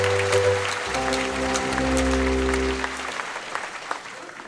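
Thin, scattered clapping from a small audience at a Christmas gathering, with a sustained low tonal hum and chatter underneath as the applause fades out.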